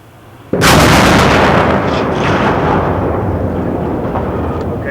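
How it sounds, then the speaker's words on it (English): A nighttime demolition blast brings down a highway bridge over southbound traffic lanes, starting with one sudden loud boom and then a long, heavy, steady rumble of collapsing debris that goes on for several seconds. "Because of darkness and the speed of the explosion, the human eye can't see the flames."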